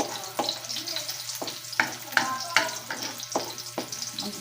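Onion fries in a pan, a soft continuous sizzle broken by intermittent sharp clicks and scrapes from stirring, close and moderately quiet.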